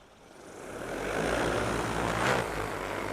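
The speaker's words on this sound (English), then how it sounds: "All you're doing is pulling down the joysticks. The drone's going to take off." An XAG P100 agricultural spraying drone spins up and lifts off nearby, its rotor hum swelling from quiet to a loud, steady buzzing drone with a slight rise in pitch.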